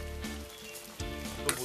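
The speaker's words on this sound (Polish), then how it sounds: "I teraz mieszamy, doprawiamy," A pan sauce made with a splash of dry white wine sizzles and simmers steadily while it is stirred and seasoned, a soft continuous frying hiss with faint scraping.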